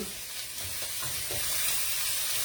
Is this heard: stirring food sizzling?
yes